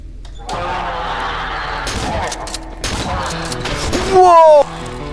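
Shotgun blasts in the horror video game Cry of Fear, loud booming shots over a dense, cluttered game soundscape, followed by a brief harsh burst near the end.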